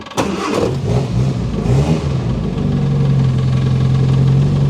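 A Westfield XI sports car engine cranks and catches, then revs up and settles into a loud, steady idle close by, with no talk over it.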